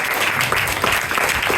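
Dense applause from an audience at a bhajan concert, a steady wash of many hands clapping at close range for a couple of seconds.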